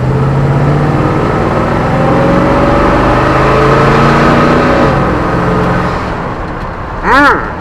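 A Chevrolet Silverado pickup's engine with modified exhaust drones and rumbles steadily at full throttle, the exhaust note holding for several seconds before fading, then a brief rising whine near the end.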